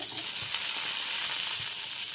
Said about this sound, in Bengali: আর এখানে উচ্ছে ভাজা হচ্ছে